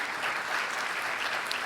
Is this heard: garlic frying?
no